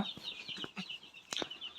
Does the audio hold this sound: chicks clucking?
yes